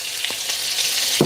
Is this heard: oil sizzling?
yes